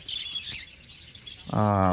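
Small cage birds such as Java sparrows and finches at a Garia bird market give high, thin, rapid chirps. They continue as a soft background twitter until a voice starts speaking loudly at the end.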